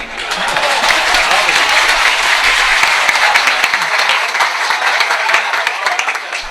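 An audience applauds at a humorous Punjabi poetry recital, with dense, sustained clapping filling the hall and a voice speaking over it.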